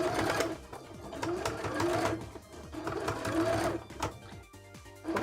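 Sewing machine stitching a cosplay costume, running in loud steady bursts with brief pauses between runs of stitches, close to the microphone.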